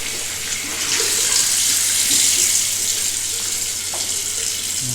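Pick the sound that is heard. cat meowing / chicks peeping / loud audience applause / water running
water running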